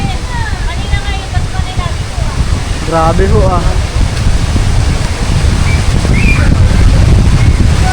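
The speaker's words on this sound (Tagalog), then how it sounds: "Bigla pong lumakas yung hangin dito sa Kubo." A strong wind roars around a hut, a loud, dense rushing noise that builds and stays close. A short exclamation is spoken over it, and faint birdsong chirps in the background.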